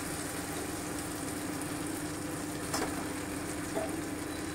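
Chili paste frying with paneer in a coconut paneer dish makes a soft, steady sizzle with a faint hum beneath and a couple of light utensil taps.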